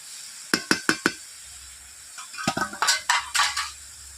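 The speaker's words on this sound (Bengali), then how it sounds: "এইভাবে লাউগুলোকে নেড়েও নিচ্ছি" Bottle gourd pieces stirred in a pan with a spatula: a quick run of sharp clacks, a pause, then a busier cluster of scraping knocks against the metal, close and fairly loud over a faint background hiss.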